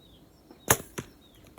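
A bow-shot arrow strikes a roe buck on a summer hunt, a single sharp thwack standing out near and loud against quiet outdoor ambience, followed by a couple of fainter, briefer impacts or rustles.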